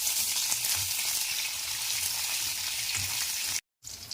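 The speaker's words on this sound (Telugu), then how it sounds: "ఆ పచ్చిమిర్చిని ఇలా సగం కట్ చేసి ఉంచుకోవాలి లేదంటే మీద పడతాయి చిల్లి ఇలా వేయించుకోవాలి మిర్చి అంతా మంచిగా ఫ్రై కావాలండి" Halved green chillies frying in oil in a pan, a loud, continuous crackling sizzle heard up close with faint stirring, broken by a brief dropout near the end.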